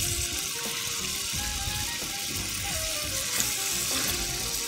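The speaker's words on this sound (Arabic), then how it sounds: "نحط في الزيت، وعايزين نسخنه وإننا نشوح الفراخ" Chicken pieces frying in hot oil in a home kitchen, a steady loud sizzle and crackle running throughout with faint clinks, no talking.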